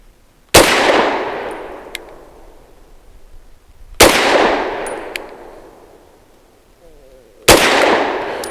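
Three loud, sharp pistol shots from a Grand Power K100 Mk23 firing Norma 65 grain frangible ammunition, evenly spaced about three and a half seconds apart, each with a ringing decay and a faint metallic ping after.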